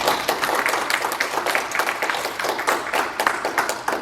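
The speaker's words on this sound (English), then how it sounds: "Can we give him another round of applause?" An audience applauds after a Mexican folk dance presentation, steady, lively clapping from a room full of people, close and continuous throughout.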